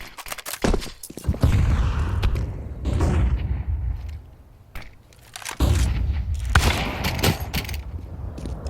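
Grenade blasts and gunfire in a Counter-Strike pro match, ESL Pro League quarter-final, hit in loud bursts with heavy booming thuds, separated by quieter stretches.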